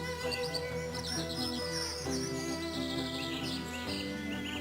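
A great tit calling, the largest tit in Europe, with repeated bright chirps and notes over a steady, busy background, moderately close.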